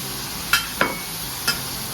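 Chili powder and garam masala sautéing for a country chicken curry, a soft background sizzle broken by three sharp spoon taps against the pan, no voices.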